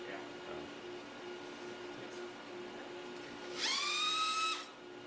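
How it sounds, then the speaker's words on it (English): Power drill briefly whirring near the end as it backs out threaded half pins from a mini external fixator in a tibia, a short rising motor whine over a steady low hum of a clinical room. "the half pins are removed with a power drill"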